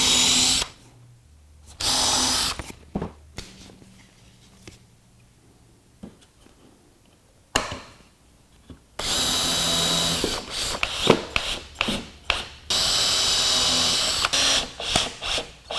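A power drill driving screws into shop-made plywood shims, with repeated loud bursts of whirring motor, short at first and then longer sustained runs broken by brief pauses and small clicks.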